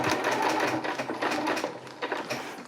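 A sewing machine with a zipper foot runs steadily nearby, stitching tarp fabric with rapid mechanical chatter and slight changes in speed.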